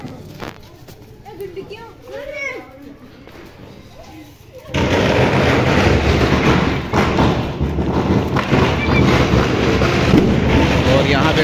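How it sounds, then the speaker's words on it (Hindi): Firecrackers set off by children at a Diwali celebration, a dense rumbling barrage of bangs and crackles that suddenly swells loud and fills the rest of the clip, with talk faint before it starts. "यहाँ पे बच्चे पटाखे लगा रहे हैं गाइस, देखो"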